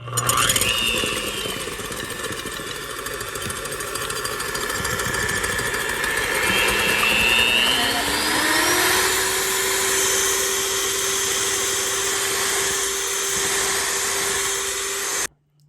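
A Cuisinart hand mixer whirs with a loud, steady motor drone. Its pitch rises as it speeds up partway through, it runs evenly close up, and then it stops abruptly at the end.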